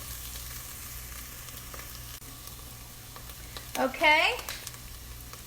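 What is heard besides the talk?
garlic, celery and onions sizzling in a pot for oyster stew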